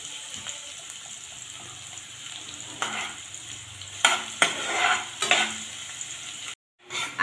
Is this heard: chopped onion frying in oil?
yes